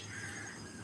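A crow caws steadily in the open at early morning, a single harsh drawn-out call over faint outdoor hiss, no voices.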